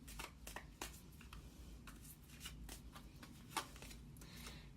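Tarot cards shuffled and drawn, a run of crisp riffling snaps and slides close by, several sharp card flicks standing out over a soft room hush, with no talking.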